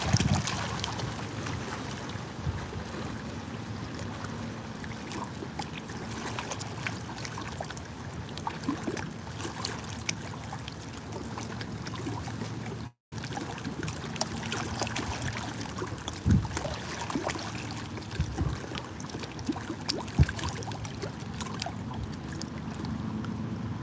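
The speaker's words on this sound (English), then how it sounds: "You could almost have a nap to this noise sound, eh? The water and the wind going by." Wind and river water rush past a fishing boat on the Grand River near Cayuga, Ontario, in a steady, even broadband wash that runs on without talk, broken only by a brief dropout midway.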